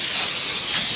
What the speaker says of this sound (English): Some of that good Canadian brake cleaner.